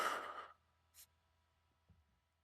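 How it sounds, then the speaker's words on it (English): A single breath pushed out during a guided breathing exercise, a loud close sigh-like exhale of about half a second, followed by quiet with a faint soft breath sound and low room hum. "Inhale, exhale."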